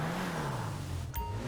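An Annis Elegy RH8 in GTA V Online at Los Santos Customs, its engine idling in a low steady drone that dips in pitch and then rises again, heard fairly faintly.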